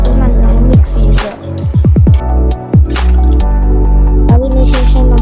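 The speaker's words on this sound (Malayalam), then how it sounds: "2 ടേബിൾ സ്പൂൺ മൈദ, എന്നിട്ട് അതിനകത്ത് വെള്ളം ചേർത്ത് നല്ലോണം മിക്സ് ചെയ്യുക" Maida flour being mixed with water into a batter in a bowl for noodle potato cutlets, with wet squelching and dripping sounds, quick clicks and swishes in bursts, fairly close.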